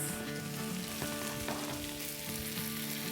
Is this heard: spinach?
yes